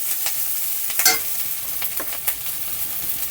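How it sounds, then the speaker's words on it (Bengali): Sliced onion with grated ginger frying in a pan: a bright, continuous sizzle up close, broken by several short scraping strokes of a spatula, one louder near the middle. "একই সাথে আমি ভালো করে ভেজে নেব।"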